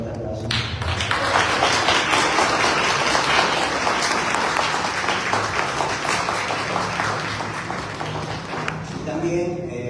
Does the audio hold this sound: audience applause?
yes